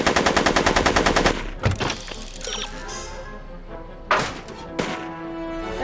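Rapid machine-gun fire in the Back to the Future video game, a fast burst of shots followed by scattered thumps and mechanical effects.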